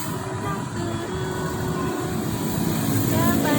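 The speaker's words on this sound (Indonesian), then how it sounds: "Sambil lihat kereta api." A train rolls past with a continuous loud rumble and rattle that builds slightly toward the end.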